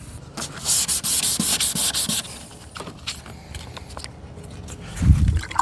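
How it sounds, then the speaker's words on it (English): Rhythmic back-and-forth sanding of a plastic headlight lens with 400 grit sandpaper on a GLK350, about eight even strokes up close, then a few lighter scrapes and a brief low thump. "continue to sand until I get all of this 400 grit scratch out of here"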